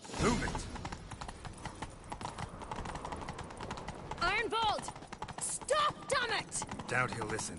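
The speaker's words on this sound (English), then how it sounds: "Grab a horse, we'll chase him down." Rapid clip-clop of horse hooves galloping in The Witcher 3, steady and continuous under game music, with a voice and a horse whinny breaking through midway.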